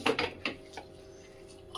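Rava rotti batter being mixed in a bowl, with a few quick clinks and knocks against the bowl in the first half second, a softer tap near the middle, then near-silence.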